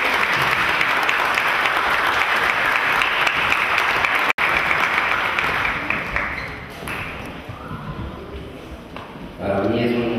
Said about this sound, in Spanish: Recibamos al químico Guerra con un fuerte aplauso